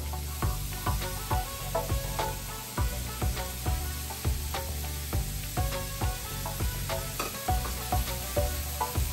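Finely chopped beetroot and carrot stir-frying in hot oil, a loud steady sizzle broken by regular scraping strokes of the spatula against the pan, close and continuous with no voices.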